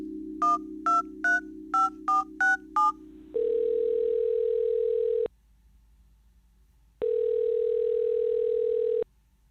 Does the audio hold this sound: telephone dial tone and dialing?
yes